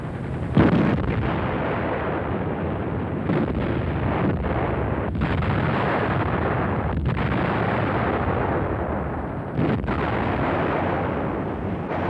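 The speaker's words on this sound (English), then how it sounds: "these 105mm gun crews had to load and fire their guns day after day" 105mm field howitzer artillery firing, heard as a continuous roaring, rumbling wall of blasts and booms that stays loud throughout, with no speech.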